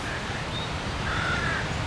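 Crows cawing outdoors over a steady wind-like background, a couple of harsh calls passing by.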